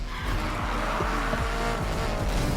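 A car drifts in the Need for Speed Heat video game, its engine revving loudly in repeated rising sweeps while tires squeal and skid, close and continuous with no talk.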